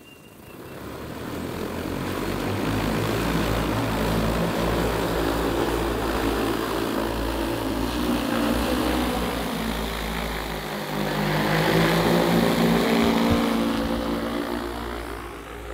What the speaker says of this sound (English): It's gonna load everything to the drone, swipe right, and it takes over from there.